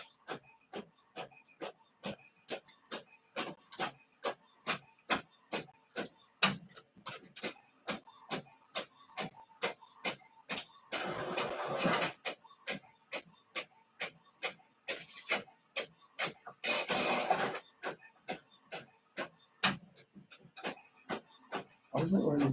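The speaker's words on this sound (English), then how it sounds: "it's printing multiple pages because I printed multiple pages earlier today." Printer running a multi-page job, a steady series of sharp mechanical clicks and feed strokes repeating about once per second, with two longer whirring feed bursts in the middle, close and fairly quiet.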